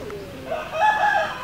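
A rooster crows once, a short rising call close by, over faint background noise.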